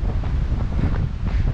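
Wind and rain buffet a runner outdoors during a training session, a loud, gusty low rumble of wind blasting the microphone, steady and unbroken with no talking.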